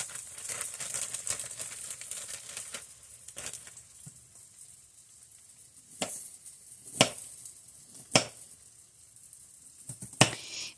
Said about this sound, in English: I'm going to cut up some onion